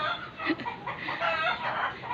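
A fighting rooster crows and clucks close by, a short burst of raspy calls with no talking over it.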